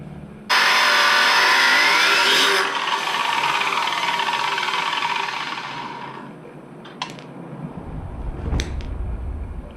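Socket ratchet clicking as it turns the crank bolt on a Jeep Grand Cherokee ZJ during a manual transmission swap: a loud, close burst of rapid pawl clicks lasting several seconds, then fading into quieter mechanical knocks and handling noise.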